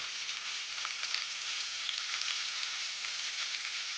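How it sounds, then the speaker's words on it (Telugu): Thinly sliced onions fry in hot oil in a kadai, giving a soft, even sizzling hiss that stays steady and fairly quiet the whole time, with no talking. "ముందుగా కళాయిలో ఆయిల్ వేసుకుని అది వేడెక్కిన తర్వాత సన్నగా కట్ చేసుకున్న ఒక 2 ఉల్లిపాయలు వేసుకోవాలి"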